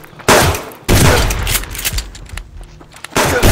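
Rapid 9mm pistol shots ring out in the survival game Subsistence, fired in a few loud, sharp bursts separated by brief gaps.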